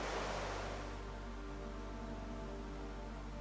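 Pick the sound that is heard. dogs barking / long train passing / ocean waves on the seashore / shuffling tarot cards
ocean waves on the seashore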